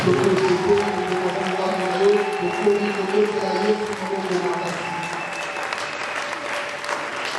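A congregation at a night prayer service claps loudly and continuously, with a dense sustained wave of applause and crowd voices mixed in throughout.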